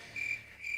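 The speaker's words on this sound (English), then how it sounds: "This is crickets." Cricket chirping effect played after a joke lands flat, two short bright chirps separated by a pause, quiet and alone without any talk.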